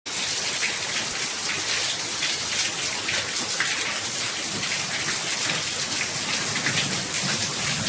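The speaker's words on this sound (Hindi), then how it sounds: "आपने देख ही लिया हो कितनी तेज बारिश पड़ रही है" Heavy rain pours down in a dense, continuous hiss, loud and close, with no voices.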